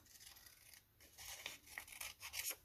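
Scissors trim a premade paper card for a nature journal, heard as quiet close snipping and rustling cuts that grow denser in the second half.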